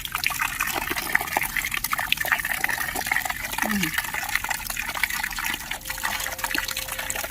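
Coconut water spurts and splashes from a freshly opened dwarf coconut held closed in one hand, a steady wet hiss running through the whole stretch, with faint voices in the background.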